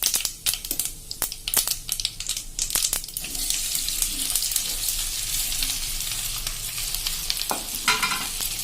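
Bottle gourd muthia pieces being tossed and mixed in a pan with sesame seeds, scraping and clattering stir strokes over a soft continuous sizzle, busier at first then settling into a gentle hiss.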